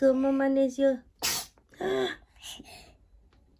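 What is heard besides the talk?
sneeze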